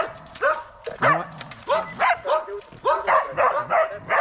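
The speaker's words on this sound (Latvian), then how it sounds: "Suns plēš ledu." Hunting dog tearing at ice while barking, a close, loud run of about eight sharp barks in a steady rhythm, some breaking into yips and whimpers.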